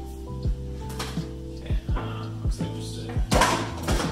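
A large Assassin's Creed Valhalla collector's edition box being opened, with several dull knocks and thuds of heavy cardboard and packing shifting, alongside close speech.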